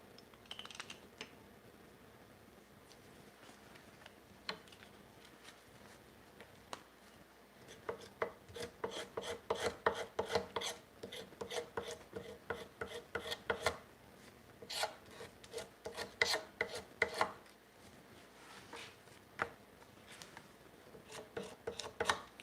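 Scrapers rasping across buckskin leather in a home workshop, the hide being prepared for sandal straps; rough, rhythmic scraping strokes start quietly, then grow denser and louder in close, uneven bursts.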